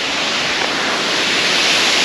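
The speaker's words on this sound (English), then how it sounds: "It's a massive waterfall!" Falling Foss waterfall near Whitby pours beside forest, a loud, steady broadband roar of rushing water that holds unbroken and close throughout.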